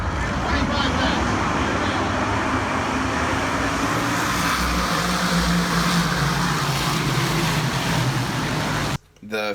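Big block modified race cars roar around the Lernerville Speedway dirt track in a continuous, loud, dense engine drone, with voices faintly mixed in before it cuts out near the end.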